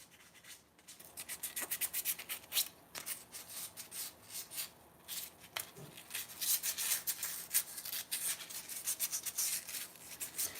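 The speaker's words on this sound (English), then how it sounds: "you want to use 400 grit sandpaper" A custom helmet being wet sanded by hand with 400 grit sandpaper, giving steady rubbing and scraping strokes in an irregular rhythm, close and fairly quiet with no talking.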